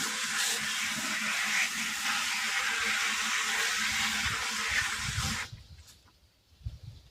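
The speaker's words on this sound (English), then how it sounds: "we're going to rinse these buckets" Buckets are rinsed with steady rushing water for about five seconds before the flow cuts off, followed by a few soft clunks and drips, close by.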